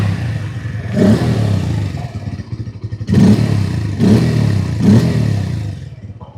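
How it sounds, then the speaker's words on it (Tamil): A 2024 Bajaj Pulsar N150 150cc motorcycle revving close by, with several sharp throttle blips rising over an idle, the loudest bursts coming in quick succession near the end. "இப்போ இந்த பைக்குடைய இன்ஜின் நோட் நமக்கு எப்போ எப்படி இருக்குது அப்படின்றத"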